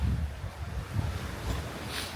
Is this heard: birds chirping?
no